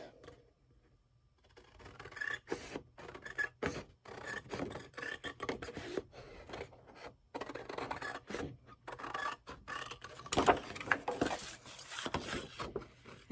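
Scissors trim craft material in a series of close, crisp snips and rasping cuts with short pauses between, quiet and with no talking.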